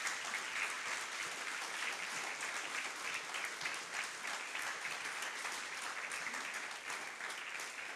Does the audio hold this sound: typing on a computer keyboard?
no